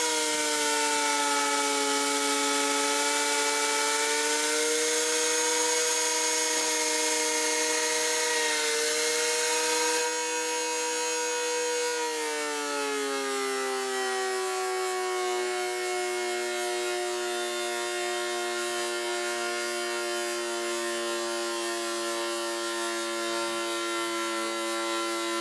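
A loud DeWalt power planer whines steadily as it surfaces wood boards, its pitch dropping and settling as the blades bite into the board, continuous with no talking.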